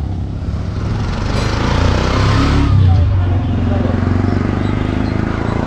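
A new motorcycle's engine revs outside, its tyre picking up nails: a steady close rumble that swells to a louder peak midway and then settles into a continuous idle, with voices faintly mixed in.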